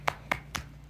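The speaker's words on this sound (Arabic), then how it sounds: "صفقوا معاي. يلا 1 2 3" Three sharp, evenly spaced hand claps, close and moderately loud, clapped in a quick steady rhythm.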